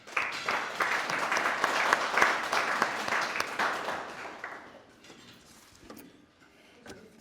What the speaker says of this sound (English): please join me, if you will, in a round of applause for our past presidents, our current state directors